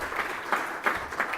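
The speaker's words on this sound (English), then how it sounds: "Go ahead and clap" A moderate round of audience clapping follows a talk at a conference, a soft steady patter with a few sharper claps standing out, heard alone without talk.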